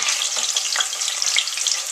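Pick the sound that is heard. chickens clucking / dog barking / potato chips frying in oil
potato chips frying in oil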